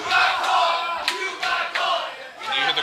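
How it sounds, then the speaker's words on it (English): Wrestling crowd at an independent show chanting in unison, a loud, rhythmic mass of voices with sharp shouts and claps punctuating the steady roar of the arena. "You hear the crowd chanting, "You got caught.""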